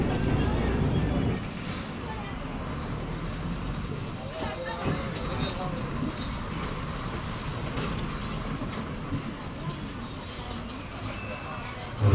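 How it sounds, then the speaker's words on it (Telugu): An APSRTC bus pulls away from the Terlam bus shelter on a Srikakulam to Bobbili route, its engine a steady low rumble with road noise throughout and a brief brake hiss near the start. "తెర్లాం నుండి మన బస్ తిరిగి బయలుదేరింది."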